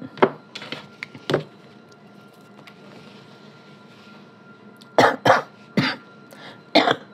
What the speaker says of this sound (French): Désolée si je tousse